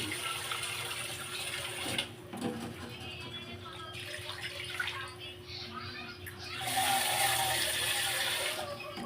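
Water runs and splashes steadily into a cooking pot for pancit bato, with a continuous broadband rush that swells louder near the end, over a low background hum.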